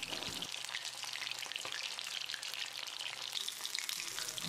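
Chicken pieces for crispy Payyoli chicken fry deep frying in oil as the foam settles, giving a steady, dense sizzle and crackle that holds even and close throughout with no voices.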